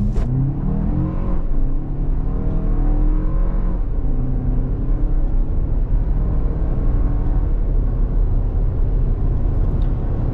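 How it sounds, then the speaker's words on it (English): A 2023 Toyota Highlander LE AWD with a turbo four-cylinder and an 8-speed automatic accelerates on the road, its loud engine note rising and falling through smooth gear changes over constant road rumble inside the cabin. "we'll do a bit of an acceleration test"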